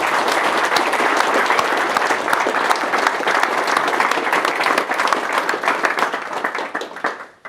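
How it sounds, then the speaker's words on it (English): Audience applause fills a live athletic coaching session at PLAE LABS Sydney, a dense, steady burst of many hands clapping close up for about seven seconds before tapering off at the end. "can we give these guys a round of applause?"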